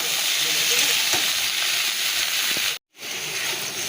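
Snake gourd (chichinga) frying in a pan, a steady close sizzle and hiss with faint stirring, briefly cutting out near the end before resuming.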